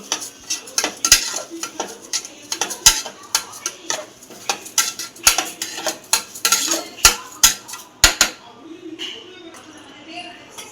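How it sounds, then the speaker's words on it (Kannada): A spoon stirs washed rice in a metal pot while making masala rice with potatoes: irregular scraping and sharp clinks against the pot, close and fairly loud, with a voice talking quietly beneath. "ಅಕ್ಕಿನ ನಂತರ ಇದನ್ನು ಕೂಡ ಚೆನ್ನಾಗಿ ಕೈ ಆಡ್ಕೋಬೇಕು"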